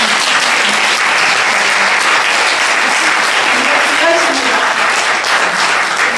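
A church congregation at a Korean testimony revival meeting gives loud, dense applause for the young worshippers who led praise, a continuous wash of clapping close and full throughout, with faint voices mixed underneath.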